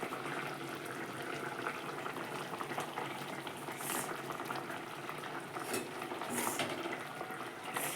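Egg curry bubbling steadily in a pot on the stove, a continuous busy boil with irregular pops and gurgles, fairly quiet and close with no voices over it.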